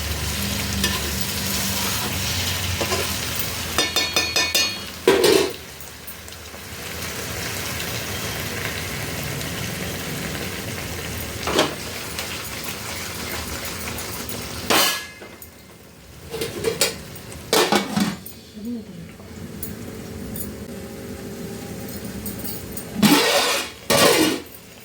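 Telangana-style fish curry stirred in a pot, with a continuous bubbling simmer and repeated scraping and clanking of a spoon against the metal pot, close and moderately loud.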